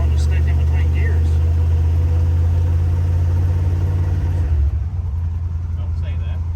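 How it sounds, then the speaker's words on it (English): A salvage-yard Dodge Charger fitted with a salvage-yard transmission rumbles with a loud, low engine drone that shifts and drops partway through, suggesting the transmission hanging between gears, with voices in the cabin. "Sounds like transmission's wanting to stick in between gears."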